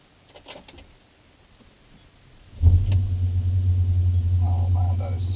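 An electric car on a test drive: near silence at first, then a steady low hum and rumble starts about halfway through and holds to the end, with a faint higher whine near the close.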